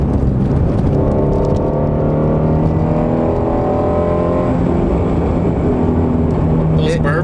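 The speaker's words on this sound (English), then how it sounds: "those burbles and those pops, that's stock too" Stock sport exhaust on a 2019 Ford GT350R burbling steadily and loudly close by, the engine drone rising slightly in pitch, with faint crackles near the end.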